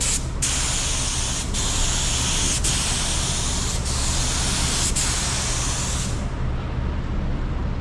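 Budget primer spray gun spraying primer onto a flat pedal, a loud, steady close-up hiss of air and atomised paint broken by brief trigger pauses, then cutting off near the end, with no talk.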